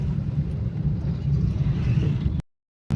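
Road traffic in a jam in Pune, a steady low rumble of car engines idling and creeping along, fairly close and continuous before a sudden cut to silence near the end.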